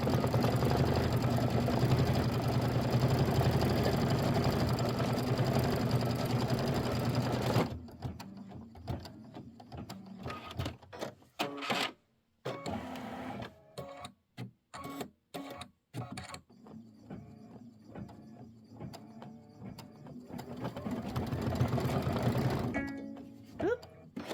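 A home embroidery sewing machine stitches a Kimberbell Thanksgiving pillow design, a steady close mechanical whir that stops partway, followed by intermittent clicks and handling noises, then the machine runs again near the end.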